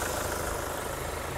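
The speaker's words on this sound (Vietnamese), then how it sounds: "máy nổ rất là êm" A 2008 Hyundai Santa Fe with a 2.0 diesel engine idling, a steady smooth close rumble with no speech.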